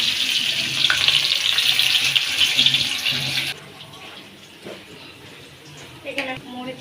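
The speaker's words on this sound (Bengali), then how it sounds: "এখন এই তেলের মধ্যে আমি পেঁয়াজ কুচিটা দিয়ে দেব।" Chopped onion frying in hot oil in a kadai for a pigeon meat curry: a loud, dense, steady sizzle for a few seconds, then a quieter crackle with occasional light clatter.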